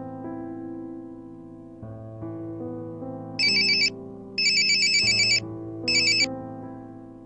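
An electronic telephone ringtone for an incoming call in a Hindi TV serial, steady and moderately loud, with a melodic tone underneath and repeated bright chirping bursts on top, heard alone without any voices.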